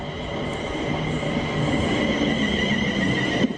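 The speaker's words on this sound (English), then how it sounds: "this train is going to Euston" A passenger train bound for Euston runs through Watford Junction with a steady, close rumble and a high wheel hiss, ending in a sharp metallic clunk; no one speaks.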